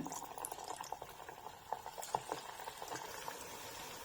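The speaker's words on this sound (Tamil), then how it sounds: "இப்ப மீதி இருக்க ரெடி பண்ணி வச்சிருக்க எல்லாத்தையுமே போட்டுடலாம் எண்ணெயில" Black-eyed pea (karamani) vada fry in hot oil with a soft, steady sizzle and faint bubbling. The frying is quiet and continuous, with no speech.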